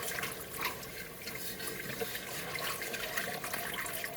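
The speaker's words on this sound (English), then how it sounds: "pour in your milk in a very steady stream, whisking the whole time" Milk poured in a slow, steady stream into a roux on the stovetop while it is whisked, a continuous close liquid splashing and rushing texture with no talk.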